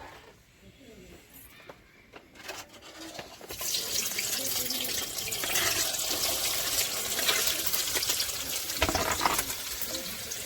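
Hot oil sizzles and fries steadily in a pan, a dense crackling hiss that swells after a few seconds and holds loud and continuous, with occasional spatters and a voice talking over it.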